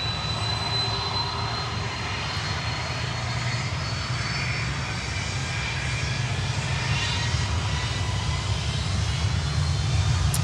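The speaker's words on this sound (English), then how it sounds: "Takeoff FedEx." FedEx Boeing 767 freighter taking off at Miami airport, a continuous loud roar of jet engines with a high whine on top, holding steady across the whole stretch.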